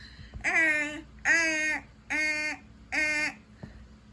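A voice imitates an alarm with four evenly spaced, buzzy sustained tones, each about half a second long, with short gaps between them.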